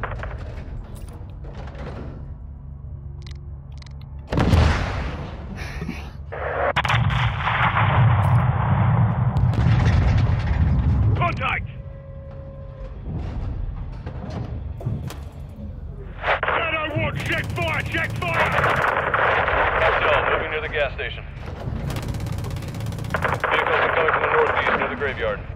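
In Call of Duty Modern Warfare 2, gunfire and explosions hit in loud bursts, with a sharp blast early on and sustained crackling fire later, while voices call out over the combat.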